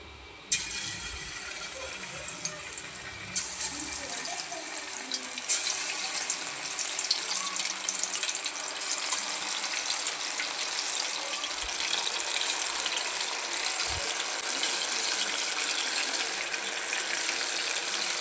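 Prawn kebabs dropped into hot oil set off a steady, broad sizzling hiss that swells after the first seconds and holds loud and close, with no talking.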